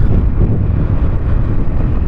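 Mild breeze buffets the microphone outdoors beside a highway in the late afternoon, a low, steady rumbling wind noise that fills the whole clip without any talk.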